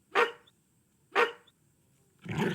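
A dog barks at strangers in a video game, two sharp separate barks about a second apart, followed by a rougher, noisier sound at the end.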